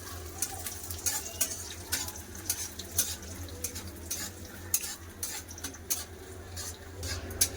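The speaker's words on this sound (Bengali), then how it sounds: "তেল গরম হয়ে গেছে আগে নারকেলটা ভেজে তুলে নেবো নারকেলটা একটু লাল করে ভেজে নেবো" Grated coconut frying in hot oil, a soft bubbling sizzle broken by repeated clinks and scrapes of a utensil stirring in the pan, moderately close and steady.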